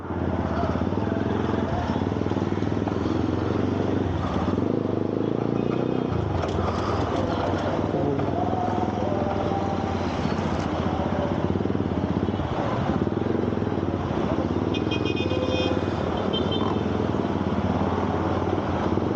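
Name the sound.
motorcycle riding in traffic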